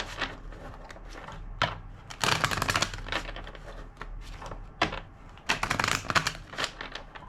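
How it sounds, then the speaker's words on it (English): Tarot cards being shuffled by hand, several bursts of crisp riffling and slapping close by, separated by short pauses, with no talking. "Two more shuffles."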